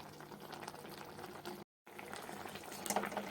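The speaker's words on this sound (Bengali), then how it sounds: "এইবারে টকটা প্রায় ফুটেই গেছে" A pot of sour spinach curry with small tilapia fish simmers toward a boil, giving a faint, continuous bubbling hiss interrupted by a brief moment of silence, with no voices.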